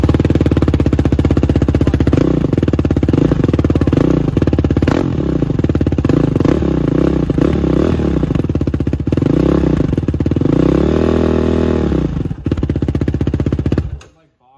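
A 2021 Yamaha YFZ450 quad idles and revs loudly with an aftermarket muffler, steady throaty running broken by repeated rising and falling throttle blips up close for about fourteen seconds before cutting off.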